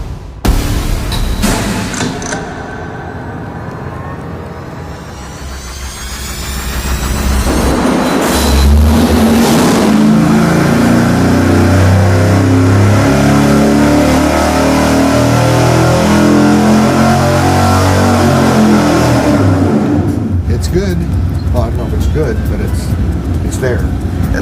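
Small-block Chevy V8 on an engine dyno roars up through a steady full-throttle pull for a cooling fan test, loud and sustained, after some talk and a start-up at the beginning.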